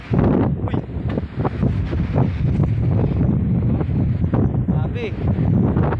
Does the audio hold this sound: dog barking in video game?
no